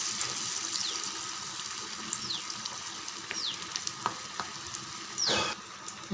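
Cabbage bonda fritters fry in hot oil with a soft, steady sizzle, dotted with light clinks and short scraping sounds, one louder splash of bubbling near the end.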